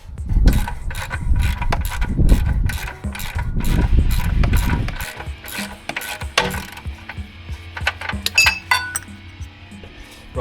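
A ratchet clicks and metal clinks as a bolt is worked out of a Mercedes SL R230 wheel hub, close and busy at first, then lighter taps and clinks of tools and hardware.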